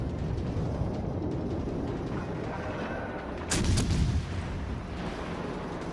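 A Siegfried battle cruiser fires a heavy gun salvo in World of Warships, a loud booming blast rising briefly over a steady rumbling wash of game ambience.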